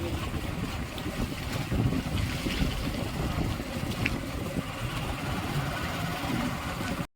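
Water rushes out through the gates of a large dam as a loud, continuous roar that fills the whole clip with dense, steady turbulence, heard without any speech.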